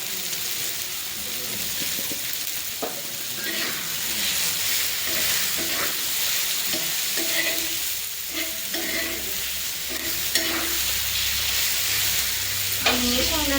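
Tomato chutney being mixed in a pan, a continuous sizzling hiss with soft repeated scraping and stirring strokes, close up, a faint low rumble underneath and no speech.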